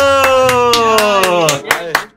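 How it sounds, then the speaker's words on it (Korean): Rhythmic hand clapping among gamers celebrating a match: quick, regular claps about four per second under a loud, sustained shouting voice, then a few louder scattered claps as the cheer fades. "와 박수!"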